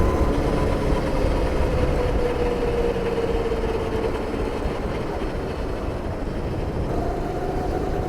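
A go-kart engine held at full throttle on a track, a loud, continuous, steady drone that stays close for the whole stretch with only slight shifts in pitch.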